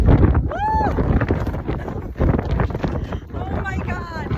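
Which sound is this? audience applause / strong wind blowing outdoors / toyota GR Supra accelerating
strong wind blowing outdoors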